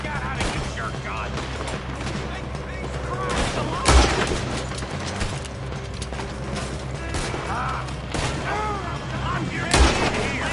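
Gunfire in the Western video game Red Dead Redemption II, with sharp shots cracking out at intervals over clattering mechanical noise and game ambience, while voices talk throughout.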